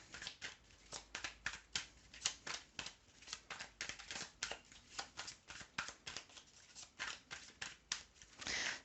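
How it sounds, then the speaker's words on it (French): Tarot cards are shuffled and handled in quick, regular riffling flicks, a dense rhythmic series of crisp close snaps continuing for several seconds with a louder flurry at the end. "Je vais juste encore reprendre une carte"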